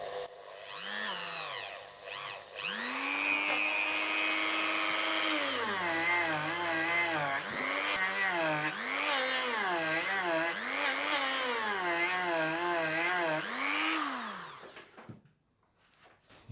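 A small rotary tool spins a cotton buffing mop loaded with honing compound against guitar frets. The motor whines loud and close, and its pitch rises and dips as the mop presses on the metal, then winds down at the end.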